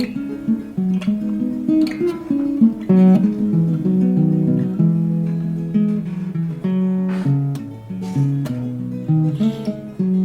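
A musician plays a song live in a studio, strummed guitar chords moving in a steady rhythm, close and full with no singing.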